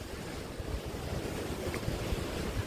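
Sea waves wash against the shore beside a coastal temple, a steady, loud roar mixed with gusting wind buffeting the microphone.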